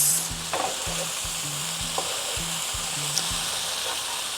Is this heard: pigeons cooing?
no